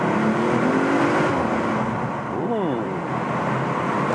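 Audi RS5 Sportback with a 2.9-liter bi-turbo V6 and Quattro all-wheel drive revs steadily from inside the cabin, its engine note rising and falling through gear shifts, with a loud, constant road roar underneath.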